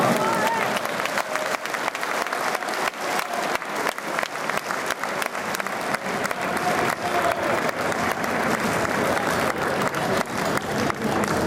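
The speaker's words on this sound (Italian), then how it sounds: "Ovviamente l'applauso anche al suo coraggioso avversario" Arena crowd at an Italian boxing match in Cagliari applauding after a fourth-round win, dense sustained clapping throughout with a commentator speaking over it.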